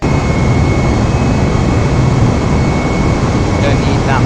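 Airbus A320neo jet engines spool to takeoff thrust in Microsoft Flight Simulator 2020, a loud continuous roar with a steady whine running throughout.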